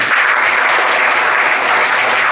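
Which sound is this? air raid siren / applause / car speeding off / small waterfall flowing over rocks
applause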